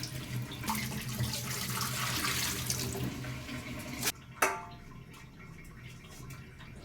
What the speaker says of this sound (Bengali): তো এই চাল ধুয়ে নিচ্ছি